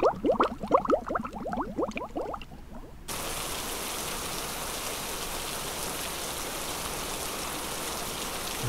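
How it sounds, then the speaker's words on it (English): Steady rain pours down in a dense, even hiss, heavy and close, after a brief stretch of rhythmic tapping at the start. "fall down to the ground as rain or snow"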